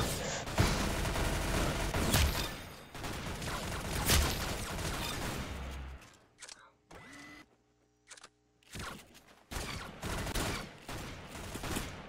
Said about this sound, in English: I'm pretty sure this is a shotgun